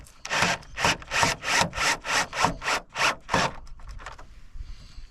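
A self-tapping screw with a washer is driven into an aftermarket side skirt on a Nissan 300ZX Twin Turbo, making about nine evenly spaced, close rasping strokes that then fade into quieter scraping.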